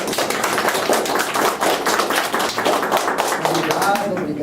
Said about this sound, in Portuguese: Palmas, por favor.